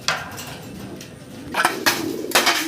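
Pigeons cooing in a farm loft of caged pigeons, a few soft coos and bird calls rising in brief bursts toward the end over a quiet background.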